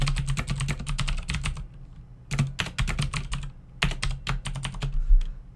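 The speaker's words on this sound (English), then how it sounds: "So if we try typing something," Someone types on a computer keyboard in quick rattling bursts of clicks, pausing briefly between groups of keystrokes, close and clear with no talking.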